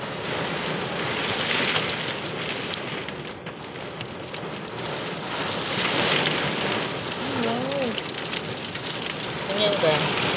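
Dense, steady downpour of heavy rain hisses and patters close by throughout, with faint voices murmuring under the roar near the end.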